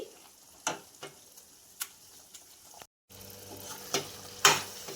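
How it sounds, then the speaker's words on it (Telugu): Tomato pickle fries in an oil tempering with a faint, soft sizzle beneath occasional sharp ticks and clinks of a spoon against the pan, close and quiet. "చూడండి, తాలింపులో మొత్తం వేగింది కదా పచ్చడి"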